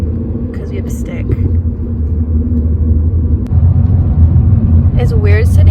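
A stick-shift car drives along, its low engine rumble and road drone filling the cabin from the back seat, steady and fairly loud, with people talking quietly over it.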